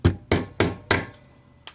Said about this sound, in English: you can come back around and you can hammer it down straight onto the edge